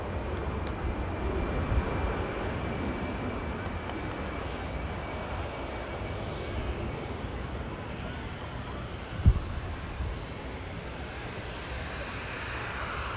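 A Finnair airliner taking off at Manchester Airport, heard as a broad, steady jet roar from a distance with wind buffeting the microphone and one brief thump partway through.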